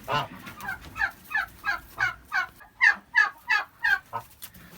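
A young Kholmogory goose calls in a steady series of about a dozen nasal honks, evenly spaced and fairly close, the later calls growing louder.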